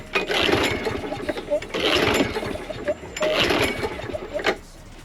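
A seized, used lawn mower is cranked three times with a pull cord, each tug giving a brief rattling spin that fails to catch, near and fairly loud, with a voice between pulls.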